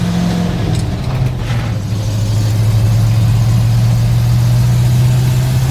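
A 1966 International Harvester 1300A one-ton pickup engine drones loudly and steadily while driving, settling into a constant hum after a slight change in pitch.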